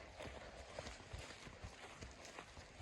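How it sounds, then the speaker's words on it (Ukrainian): Horses' hooves clip-clopping at a quick, uneven pace, faint and somewhat distant, with scattered thuds and no clear talk. "коні"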